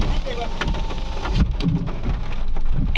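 Steady rain pours down on surfaces, a dense continuous hiss close by with faint low rumbles underneath and a few brief knocks, at even loudness throughout.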